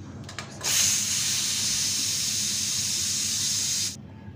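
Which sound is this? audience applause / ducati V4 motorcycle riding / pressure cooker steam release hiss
pressure cooker steam release hiss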